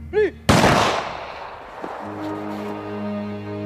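A single loud, close gunshot from a firing squad cracks sharply and rolls off into a fading rumble, followed by a faint sustained tone.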